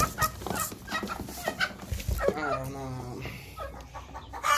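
Hens cluck and a rooster calls nearby amid farmyard noise at a coop, with people talking over the birds throughout.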